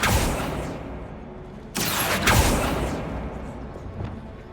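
Bombarda blasting spell explosion in Hogwarts Legacy, a sudden broadband burst near 1.8 seconds followed by a second blast at about 2.3 seconds, loud and close over a rumbling game ambience.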